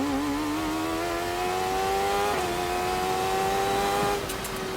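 Honda Mean Mower V2 racing lawn mower on a quarter-mile run: a loud, high-revving engine note climbing steadily in pitch at high speed, close and continuous, with a brief shift dip midway.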